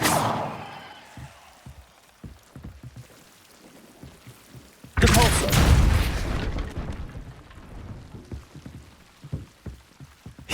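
A Depulso force spell cast in Hogwarts Legacy bursts out as a loud, sudden blast of noise partway through, after a stretch of quieter game sounds, then fades into softer ambience.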